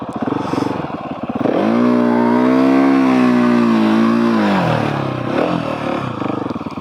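Husqvarna 701SM motorcycle engine revving hard in a burnout attempt with the rear brake held: a loud, close, sustained rev that climbs, holds and then drops away.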